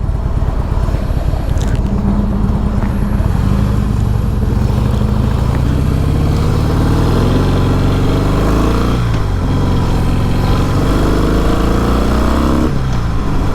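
Engine of a Harley CVO Pro Street Breakout motorcycle heard while riding, a loud continuous low rumble with rising and falling revs through gear changes, heavy wind noise over it.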